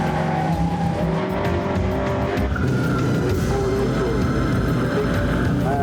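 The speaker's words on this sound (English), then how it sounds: "My comfort in the car is building and I'm getting some speed, but it's still really loose in the back end." A race car roars at speed on a tarmac circuit, the engine loud and close with shifting pitch as it accelerates, plus a hint of tire scrub.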